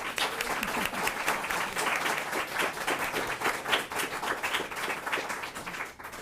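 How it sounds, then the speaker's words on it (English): Dense, sustained clapping from an audience at a League of Women Voters candidate forum in Carlisle, loud and close, continuing steadily throughout with no voices. "I'm sure we all want to give them a big round of applause to thank them"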